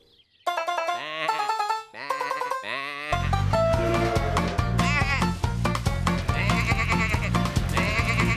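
Several sheep bleating loudly in wavering cries, first alone, then over a thumping musical backing that continues beneath repeated bleats.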